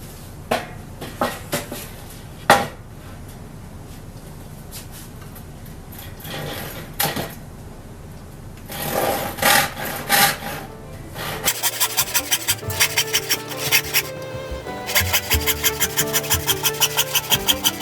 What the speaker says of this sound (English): So now I just need to cut this off at that line. I can use this Henry Diston number 12, which is a really, really nice saw.